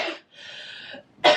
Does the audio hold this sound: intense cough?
yes